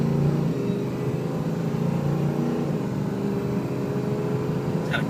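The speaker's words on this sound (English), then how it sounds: "It's got a cool exhaust system on it. This thing sounds great." A 2006 Ford F250 diesel 4x4 pickup with an aftermarket exhaust system rumbles steadily and loudly up close, a deep continuous drone with no speech over it.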